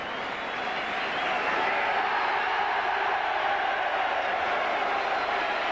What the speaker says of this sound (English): the shout of the Widnes crowd and the applause ringing all round this Old Trafford ground